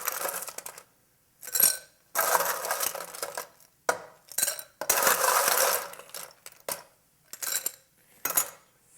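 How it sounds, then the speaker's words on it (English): Ice cubes clink and tumble into a cocktail glass in several separate bursts with brief pauses between, close and fairly crisp, with no talking. "Fill that with ice."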